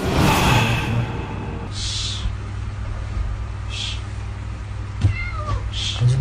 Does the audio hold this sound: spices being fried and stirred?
no